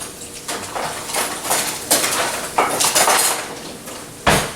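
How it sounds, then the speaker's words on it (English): Breakfast casserole ingredients get whisked together in a bowl, bursts of rapid metallic clattering and scraping coming in loud, uneven strokes with brief pauses between. "I'm going to go ahead and whisk everything together."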